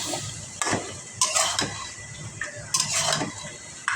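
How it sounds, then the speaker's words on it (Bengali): Fish being stirred and fried in a pan, with loud, sharp scraping strokes of a utensil against the pan repeating at irregular intervals over a soft sizzle. "এখন আমি এই মাছটাকেও সুন্দর করে কষিয়ে নিব নেড়ে চেড়ে"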